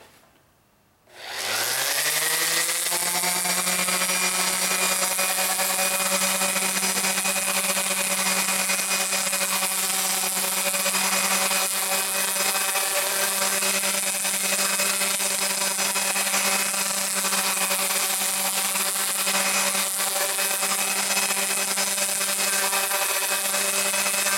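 A powered sander fitted with 400-grit paper runs over a wooden guitar body being prepared for stain. After a brief start it holds a loud, steady, droning whine for the rest of the stretch.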